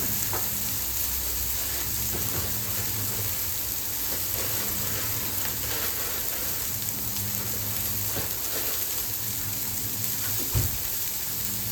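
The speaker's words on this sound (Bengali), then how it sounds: "পেঁয়াজ দিয়ে ভালো করে ভাজা ভাজা হবে" Dried fish and onion sizzle in a pan with a steady, rain-like hiss, broken only by an occasional faint knock near the end.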